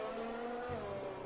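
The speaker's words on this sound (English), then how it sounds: "get that Ferrari back out on track." A Ferrari Formula 1 car in an F1 racing game pulls back out onto the Singapore circuit, its engine a short, steady high-pitched whine that drops in pitch partway through.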